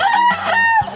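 A rooster at the Bocaue Pet Market gives one full, loud crow close by, a strained, rising cock-a-doodle-doo lasting about a second.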